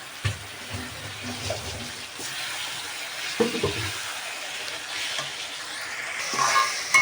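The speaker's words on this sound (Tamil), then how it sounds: "தக்காளியை நல்லா போட்டு வதக்க வேண்டியதுதான்" Tomatoes are sautéed in a pan for a Tamil-style bitter gourd and prawn fry, with soft sizzling broken by several stirring scrapes and knocks.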